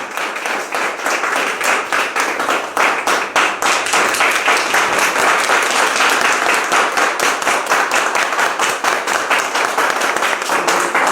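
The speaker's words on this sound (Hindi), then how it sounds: "प्लीज़ एक बार जोरदार तालियों के साथ क्या स्वागत हो सकता है सभी लोगों का?" Audience claps loudly at a ribbon-cutting ceremony for an e-learning app launch, a fast rhythmic patter that settles into a strong, even beat of many hands in unison.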